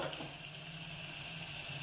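Tamarind extract is poured into a hot pan with curry leaves, giving a quiet, steady liquid gush and soft sizzle that lasts briefly.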